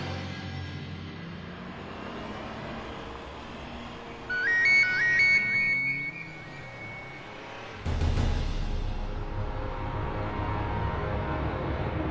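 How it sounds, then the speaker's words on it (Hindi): A phone ringtone for an incoming call chimes in a short melodic burst in the middle, heard inside a stopped car in a Hindi TV serial scene over steady low cabin rumble. "एक बहुत जरूरी फोन कॉल आ रहा है"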